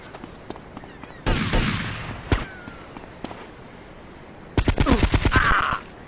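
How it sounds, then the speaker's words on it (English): Gunfire in GTA Vice City Stories on PC: a few loud single shots, then a rapid burst of automatic fire near the end, punchy and close. "Yep, I'm gonna shoot you."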